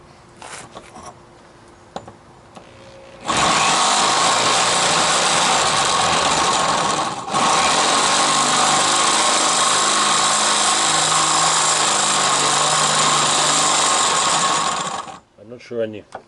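A power drill whirs loudly and steadily for about twelve seconds with a brief dip midway, fitted with a larger bit, framed by quieter handling noises and a voice afterward.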